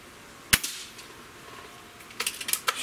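A Gamo Swarm Viper Gen3i air rifle fires a single sharp, close crack, followed about two seconds later by a quick run of lighter mechanical clicks.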